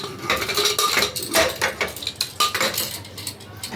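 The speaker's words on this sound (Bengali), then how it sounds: "এখন আমি প্রেসার কুকারটা সরিয়ে দেবো।" A metal pressure cooker is shifted off a kitchen stove after boiling lentils, giving a run of close, loud clanks and knocks of metal on metal and the burner grate, with no voices.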